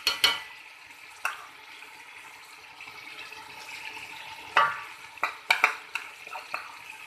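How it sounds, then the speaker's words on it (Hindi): Chicken and peas fry in a pan while being stirred, a faint steady sizzle with occasional sharp scrapes and knocks of the spoon against the pan. "मटर मैं चिकन पा दिता हम मैं इनू 5-6 मिनट भुनूंगी"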